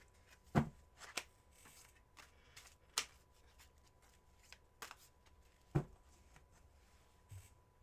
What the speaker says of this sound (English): Cleansing shuffle.